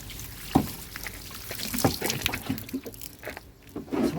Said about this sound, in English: then you just rinse it all off